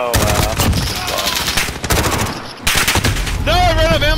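Rapid machine gun fire from a Call of Duty: Modern Warfare match, loud, dense bursts nearly continuous across the clip with a short gap, overlaid with game effects and brief voice chatter.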